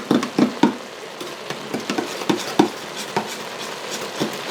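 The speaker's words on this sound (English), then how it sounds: "I'm going to stir that up and make a sauce" Spoon stirring sloppy joe sauce with Worcestershire and sugar in an Instant Pot, a close string of irregular clinks and scrapes against the inner pot with soft liquid swishing, no talking.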